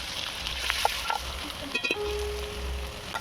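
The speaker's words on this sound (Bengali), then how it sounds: "তেল গরম হয়ে গেছে। এবার আমি দিয়ে দেবো পেঁয়াজ কুচি, পেঁয়াজ বাটা" Chopped onion and ground onion paste go into hot oil, giving a close, steady sizzle of frying with a few light clinks and stirring scrapes and no speech.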